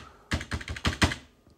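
Five or six quick computer keyboard keystrokes clatter close and crisp in a brief burst, set against a quiet background with no talking.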